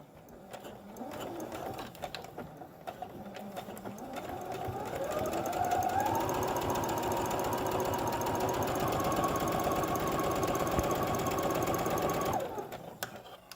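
A sewing machine stitches the seam of a three-layer fabric face mask, first in short uneven bursts and then in a fast, steady whir that runs for several seconds before stopping, with no talking.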